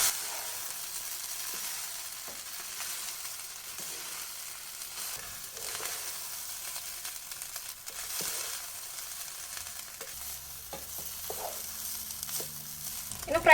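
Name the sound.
cooked rice being stirred gently in pan for egg fried rice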